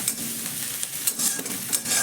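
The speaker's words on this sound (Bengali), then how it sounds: "পেঁয়াজটাকে একটু নাড়াচাড়া করে ভেজে নেব" Chopped onion and two green chillies stir-fried in hot oil, a close, bright sizzle with quick spatula scrapes and stirring bursts across a couple of seconds, no voices.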